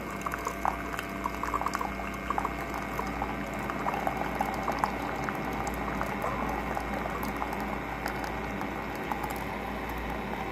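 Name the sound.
K-Cup coffee maker brewing ground coffee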